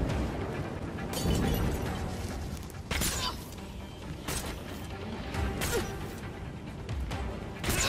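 Explosions and crashing blasts in the superhero action game Gotham Knights, a series of heavy booms and rumbling impacts over a dense, continuous roar of destruction, fairly loud throughout.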